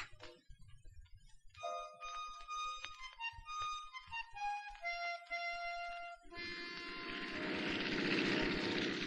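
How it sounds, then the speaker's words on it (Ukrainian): Sparse musical tones give way to a steady, swelling rotor-like drone that grows louder, like a helicopter passing overhead. "Вертоліт летить."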